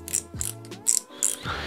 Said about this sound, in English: Here's the star drag.